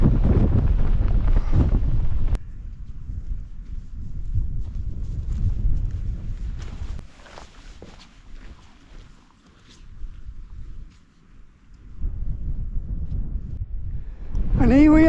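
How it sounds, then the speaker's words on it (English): A cold wind gusts across a fell above Great Langdale in the Lake District, buffeting the microphone with loud low roaring bursts that ease and return, alongside faint scuffs and brief voice-like sounds. "That wind's back and it's absolutely freezing cold."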